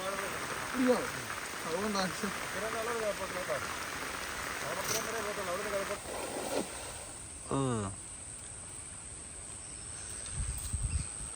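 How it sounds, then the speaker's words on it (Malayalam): Light rain patters steadily on a Kerala village waterside during cast net carp fishing, a soft continuous hiss with birds chirping and brief sounds of people moving nearby. "മഴയൊക്കെ ചെറുതായിട്ട് തോന്നുന്നുണ്ട്"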